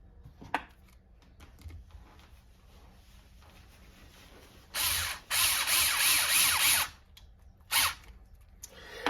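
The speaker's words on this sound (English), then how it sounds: "I'm basically screwing it into the center of each one of these." Traction studs are screwed into a BRP snowmobile track: faint scattered ratcheting clicks, then a couple of loud driver bursts close by and one last short burst.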